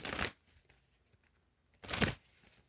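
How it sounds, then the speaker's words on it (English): Two quick riffles of tarot cards being shuffled, one at the start and another near the end, crisp and close with a quiet pause between. "Do one more shuffle"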